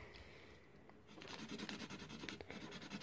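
Black felt-tip marker rubbing back and forth across paper as an area is colored in, a soft close scratchy scribbling that starts quietly and grows busier and denser after the first second, with no talking.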